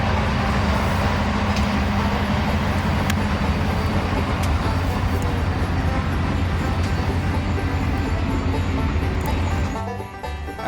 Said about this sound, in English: the train rounded the corner about 12 o'clock p.m.